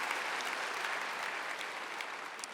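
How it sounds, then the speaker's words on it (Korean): An audience at a church festival gives steady applause throughout a testimony and worship event featuring a tenor, dense and even clapping from a large crowd with no pause. "박수 한번 주실래요?"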